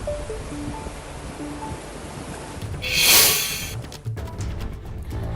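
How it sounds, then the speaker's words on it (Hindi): The swollen Bindal river in Dehradun rushes in flood after heavy rain, a steady broadband roar of churning water that surges louder for a moment midway through. "इस वक्त बिंदाल नदी अपने विकराल रूप में बह रही है"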